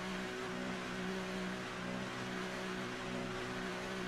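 Formula One car engine in the F1 2018 video game as the car enters the pits, a steady, moderately faint mechanical hum with a constant low drone and broadband noise, unchanging throughout.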